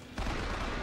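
A possessed turret machine gun in Bioshock Infinite opens up, a sudden loud burst of rapid fire that begins after a short lead-in and continues unbroken.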